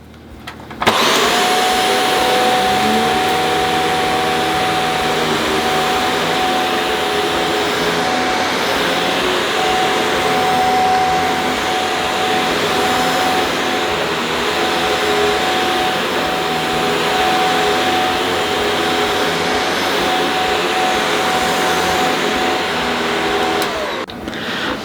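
A loud, steady Shark vacuum cleaner roars continuously from start to finish, with a constant high whine over a broad rushing drone.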